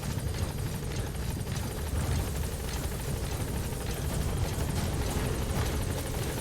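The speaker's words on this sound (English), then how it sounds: "Support helicopter extraction arrived at Mother Base." A support helicopter in the video game Metal Gear Solid V: The Phantom Pain roars continuously as it arrives at Mother Base, its loud rotor throb and engine wash filling the scene alone.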